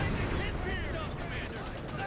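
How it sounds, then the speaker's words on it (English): Gunfire in Company of Heroes 3 during a Wehrmacht versus US Forces match, with dense, continuous crackling shots and distant battle noise mixed under game sound. "More shooting there."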